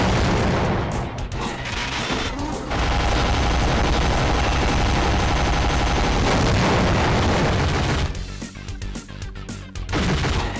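Rapid gunfire and blasts from CT Special Forces on the PlayStation 1 during a boss fight with a cannon. Loud, dense shooting runs almost nonstop, with brief gaps and a sharp burst near the end.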